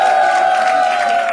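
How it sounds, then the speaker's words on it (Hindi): A studio audience at a comedy game show cheering, a short loud burst of crowd whoops and yells with a sustained, tonal roar. "एक बार जोरदार तालियां हो जाए दोस्तों"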